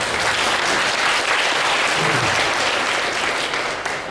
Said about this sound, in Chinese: 让我们以热烈掌声来欢迎